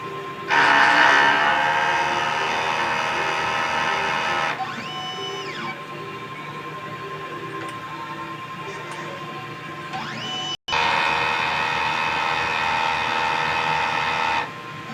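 A DTF printer runs a print head cleaning cycle, loud mechanical whirring in bursts with pump and carriage tones rising and falling, a quieter stretch in the middle, then a second loud burst after a brief gap.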